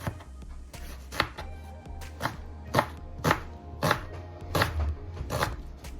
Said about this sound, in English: now we're gonna be cutting up our vegetables for our curry